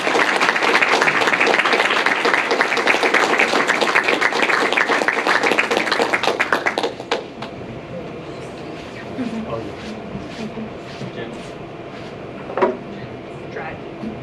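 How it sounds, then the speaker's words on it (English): A crowd at a celebration-of-life gathering applauds loudly and steadily for about seven seconds, then the clapping cuts off, leaving quieter room noise and scattered voices. "this is a celebration, so let's give a round of applause to Humble Hal."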